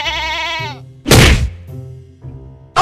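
A goat bleats loudly and close at the start. A heavy thunk follows, then shorter bleat-like calls come toward the end.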